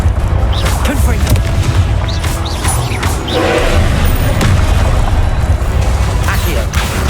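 The Confringo blasting spell from the game Hogwarts Legacy sets off a series of booming, crashing explosions over several seconds amid dense combat noise, with bursts of impact and clatter layered together.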